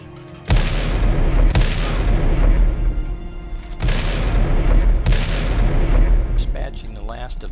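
Heavy gunshots boom one after another, each blast leaving a long rumbling tail, followed by rapid lighter pops near the end.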